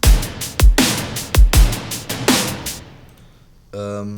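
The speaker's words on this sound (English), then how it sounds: "So the drums sound like this." Punchy electronic drums for synth-metal game music play alone: booming kicks and sharp snare hits in a steady beat, then a brief pause before a synth tone comes in.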